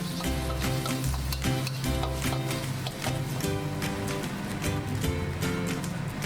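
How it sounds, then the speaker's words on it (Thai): An egg spread across a hot, oiled wok for crab fried rice gives a steady, close sizzle and scrape throughout, with music playing underneath. "ละเลงไข่ให้ทั่วกระทะ"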